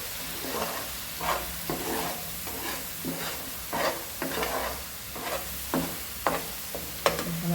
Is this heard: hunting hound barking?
no